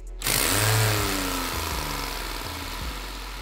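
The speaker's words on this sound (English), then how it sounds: "I'm gonna do Integ's remix of my Winkel engine, running straight off of 2 liters of air at 60 PSI" A 3D-printed Winkel rotary engine runs on two liters of compressed air at 60 PSI, starting with a sharp burst and then spinning fast with a loud, continuous whirring buzz that slowly winds down.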